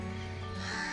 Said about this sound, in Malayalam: കാക്ക വരുന്നു, വിരുന്ന് വിളിക്കണ്ടല്ലോ.